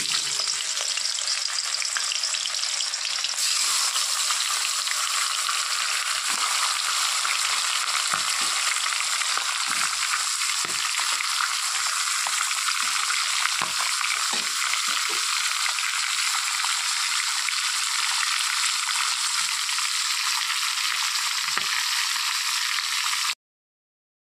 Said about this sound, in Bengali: মাছের মাথাটা ভাজা হয়ে গেছে